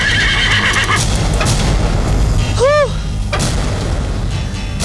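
A horse gives one brief, shrill whinny in the middle of a loud, busy film soundtrack, with the harmonic neigh rising above dense background noise for under a second.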